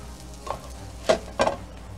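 Egg mixture for Korean street toast cooks in a pan, with a soft steady sizzle and two or three brief scraping stirs close by.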